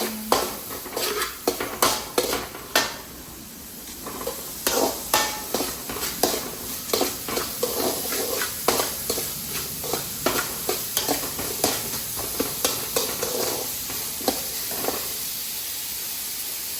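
Sliced onions sautéing in a pan for a prawn and mango curry, with a soft steady sizzle and repeated scraping strokes of a spoon stirring at a regular rhythm.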